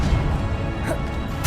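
Depulso, a pushing spell, cast in Hogwarts Legacy, a dense whooshing burst with a thumping impact and a final bright swish at the end, loud and close.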